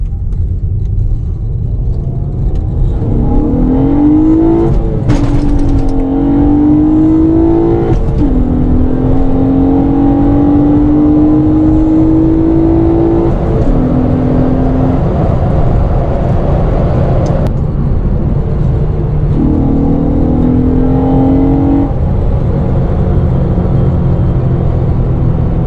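A car with a Honda J-series engine fitted with a P2R spacer rolls slowly and accelerates, its engine note rising in several stepped pulls over a steady loud road rumble, with no talking.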